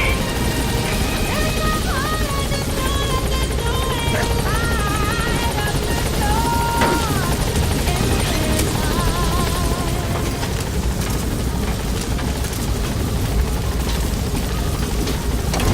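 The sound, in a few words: helicopter arriving at landing zone in Metal Gear Solid V video game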